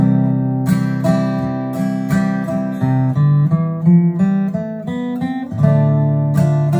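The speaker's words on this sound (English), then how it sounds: "I'm not going to pluck that note. I'm going to strum it." Guitar chords strummed alone in a clear, close sequence, each strum ringing out with bright sustained harmonics before the next, a short melodic phrase played without any talking.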